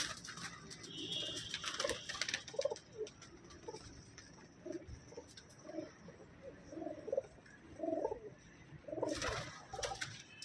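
Pigeons coo softly in a series of low, rounded calls from near to moderate distance, with light background rustle and a brief burst of higher noise near the end.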